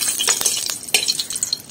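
Dried red chillies and a bay leaf sizzle in hot ghee in a kadai, with light crackling and a few metallic clinks and stirs of a spoon against the pan, close and fairly loud.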